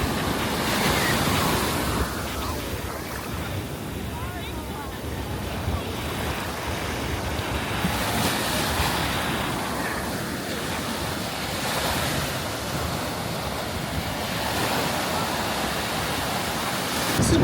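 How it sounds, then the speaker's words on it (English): Ocean waves breaking at Sherwood Beach on Oahu's east shore, a steady roar of surf with swells rising and falling over continuous wind noise on the microphone, no talking. "these waves can be pretty massive"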